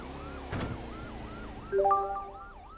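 Police car siren in a Roblox video game, a steady wailing tone rising and falling in a regular cycle, with a few brief louder electronic bleeps near the end.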